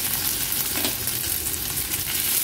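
Chopped spring onion sautéing in oil in an Agri Koli style home kitchen, giving a steady, close crackling sizzle that fills the whole stretch without a pause.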